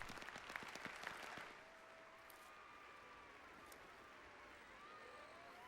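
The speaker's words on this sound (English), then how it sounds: "Golf clap." A few soft, scattered claps from a golf-clap applause emote in a video game, faint and brief, fading after about a second and a half into quiet background.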